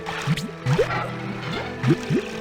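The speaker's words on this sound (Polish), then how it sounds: "I stąd kapie." In the Reksio video game, water drips from a pipe in short plinking drops with rising liquid blips, five or six spaced irregularly over a low hum, clear and close with no speech.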